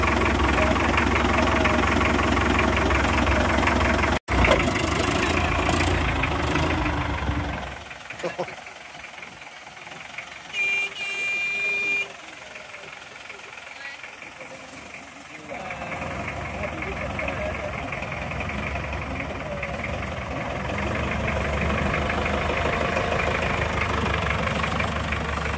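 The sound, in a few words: old simple engine starting and running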